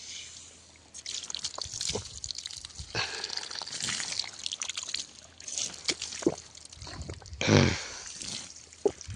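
Water runs from an opened irrigation hose outdoors in a maize field, a steady hissing trickle with dripping and splashing throughout. No one speaks.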